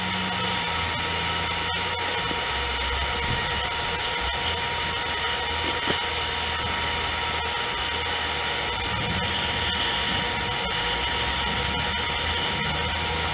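An M1 gasifier warming up after start-up, giving a loud, constant, close roaring hiss with a steady hum and no break for the whole stretch.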